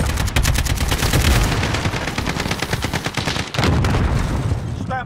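Rapid gunfire from Call of Duty: Modern Warfare, dense bursts of rifle and machine-gun shots rattling almost continuously and loud, with a brief dip before the firing surges again.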